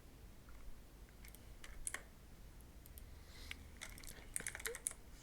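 Close typing on a computer keyboard into a search box, a scattered run of light key clicks that grows busier toward the end, with no talking.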